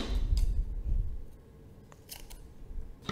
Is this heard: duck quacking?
no